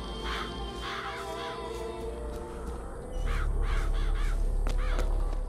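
Birds caw repeatedly in Bioshock Infinite, with about three bursts of harsh calls scattered over a constant wash of ambient game sound and a low rumble that grows louder halfway through.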